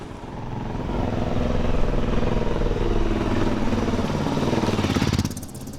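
A Mash 400 motorcycle ridden on a tarmac track, its engine pulsing in a loud, close, steady throb that holds for about five seconds and then eases off sharply near the end, with no talking.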